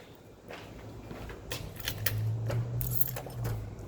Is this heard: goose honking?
no